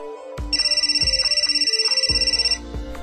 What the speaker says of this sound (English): A cell phone rings.